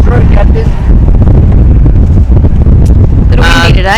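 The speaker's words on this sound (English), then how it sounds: "Little windy today." Wind gusts buffet a sailing catamaran at its mooring, a loud, steady low roar across the whole clip with no speech.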